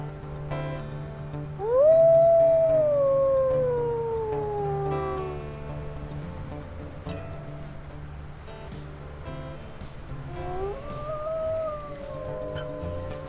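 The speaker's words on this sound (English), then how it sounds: "I think I heard Comet's howl" Comet, a wolf in the wolf-survival game Ironwolf, lets out long rising-and-falling howls, one big close howl that slowly fades and then a second, softer one, alone over a low background hum.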